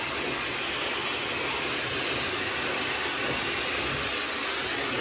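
A hair dryer running on its high heat setting gives a steady, even rush of blown air that holds at constant loudness throughout, with no voices over it.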